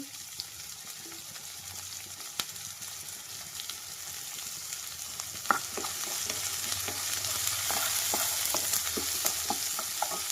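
Shallots and curry leaves fry in oil in a pan for a brinjal curry, giving a steady close sizzle with scattered crackles and pops that grow denser toward the end, with no talk.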